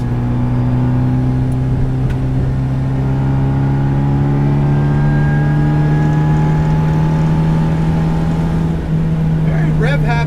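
Supercharged 1967 MGB GT with a 1.8 engine and aftermarket exhaust, accelerating from about 3,500 RPM, a loud, close, steadily rising drone with clear harmonic whine that climbs in pitch, under occasional talk.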